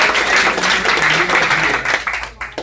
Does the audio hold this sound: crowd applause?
yes